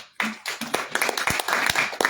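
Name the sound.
crowd clapping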